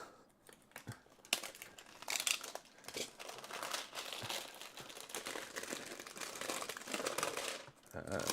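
A wrapped 1987 baseball card box being ripped open: loud crinkling and tearing of plastic wrap in bursts, close to the microphone, with a faint voice at times.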